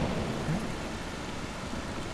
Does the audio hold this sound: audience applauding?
no